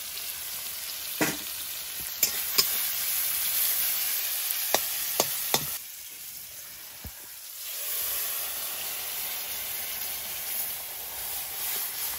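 Masoor dal with tomato sizzles in a pan over a wood fire, a steady close hiss broken by several sharp utensil clicks and taps in the first half. The sizzle briefly quietens, then swells back to a fuller continuous fry with no voices.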